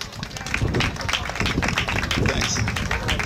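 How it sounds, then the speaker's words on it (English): Audience applause at a camp certificate ceremony, dense rapid clapping from a crowd that stays loud and even throughout, with a few sharper nearby claps standing out. "So round of applause again."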